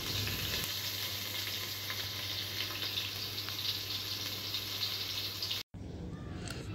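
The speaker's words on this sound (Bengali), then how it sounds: "পেঁয়াজ, রসুন, কাঁচামরিচ হালকা ভাজা হলে" Onion, garlic and green chillies sizzle gently in a pan, a soft continuous frying hiss with faint stirring and a low steady hum, ending with a brief cut.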